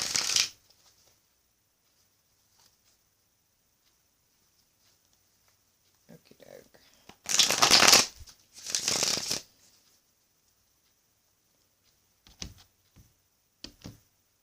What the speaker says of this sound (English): One more shuffle and then I shall cut for you.